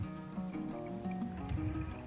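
Well water trickles from a pipe into a mug, a steady close gurgling stream with a shifting pitch as the mug fills, alone without talk.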